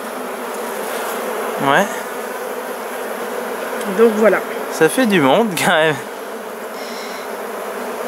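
Honeybees hum in a dense, steady drone at an apiary hive close to the microphone, while people talk over the buzzing now and then.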